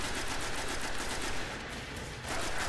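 Rapid gunfire from a weapon in the video game Destiny, a dense, continuous burst of shots filling the whole stretch at close range with no voices.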